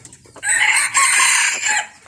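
Bantam chickens in a well-kept coop, with a rooster giving a loud, close crow that runs about a second and a half, surrounded by clucking from the flock.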